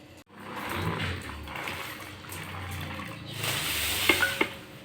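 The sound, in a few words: vegetables being washed in water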